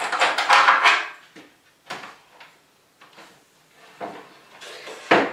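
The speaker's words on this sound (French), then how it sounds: "On plie la machine, on la verrouille et on est prêt à partir." A Mini Cut 2D CNC machine is folded and locked shut, producing a quick series of close, hollow clunks and sliding knocks, with a louder latch-like thump at the end.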